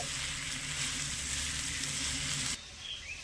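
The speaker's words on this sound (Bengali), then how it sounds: "এবারে ঘিয়ের সাথে ভালো করে মিশিয়ে একটু ভেজে নেব" Sago pearls fry in ghee in a pan over medium-low heat. The sizzle is soft and steady, then drops suddenly to a quieter crackle for the final moments.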